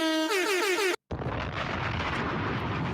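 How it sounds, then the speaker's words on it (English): A blaring air horn with a stepped, wavering tone cuts off abruptly, then a loud explosion bursts in and rumbles on with noisy debris. "Half an air horn and a bomb."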